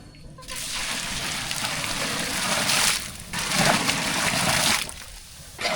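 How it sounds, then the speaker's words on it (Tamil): Water poured into a pot of vegetable biryani in a steady, splashing stream that runs in two long pours, close and fairly loud. "பிரியாணிக்கு வந்து தேவையான அளவு தண்ணி சேர்த்துக்கலாம்"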